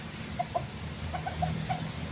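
Soft, scattered clucks from a chicken, a few short calls spaced irregularly over a low background hum.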